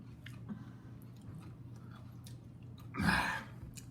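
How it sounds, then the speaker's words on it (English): Chewing on a Paqui One Chip Challenge chip (2022), heard as quiet, close mouth sounds over a low hum, with a short louder crunchy burst near the end. "I'm still chewing."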